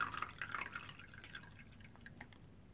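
Yellowish water poured out during a cereal snack review, giving a soft trickle and a few drips that start a little louder and fade to a faint, close splashing.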